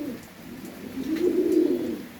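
A pigeon feeding its chick coos in a low, steady, throaty rumble that swells louder toward the middle and then tapers, close by with no talking.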